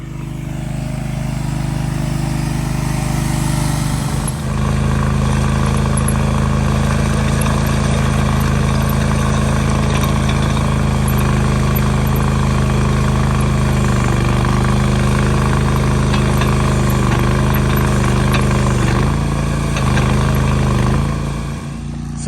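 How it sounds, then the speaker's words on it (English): A Ditch Witch trencher engine idles on a building site being levelled for a driveway, a steady loud low rumble with harmonic drone that starts abruptly after a few seconds and holds continuously, with no talking. "I could just snag a ditch witch for half a day real quick"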